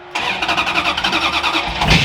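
The Batman Tumbler Batmobile's engine starting up, a loud, close mechanical churn with rapid pulsing as it cranks and catches, rising at the end.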